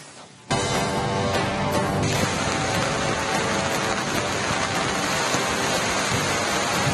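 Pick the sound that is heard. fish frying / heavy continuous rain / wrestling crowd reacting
heavy continuous rain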